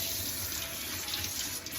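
Water spraying steadily from a tap or hand sprayer while washing a small dog's shampooed face, a close, continuous hiss of running water with no talking.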